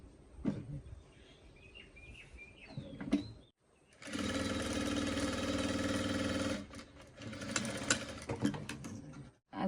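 A sewing machine stitches fabric in a steady, loud mechanical whir for about three seconds, followed by a shorter, more broken burst, with softer handling clicks and faint bird calls before it starts.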